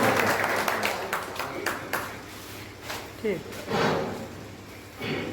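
A scattered burst of hand clapping rises at a farewell ceremony for a retiring district education officer, fading after a couple of seconds as a voice carries on speaking over the room.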